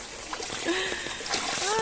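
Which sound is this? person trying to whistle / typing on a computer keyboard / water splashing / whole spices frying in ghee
water splashing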